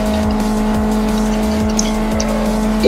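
A race car in the GT Racing 2 video game shifts into fifth gear, its engine holding a steady high drone while brief tire-squeal chirps and gear-change dips repeat at regular intervals, loud and close with no talk.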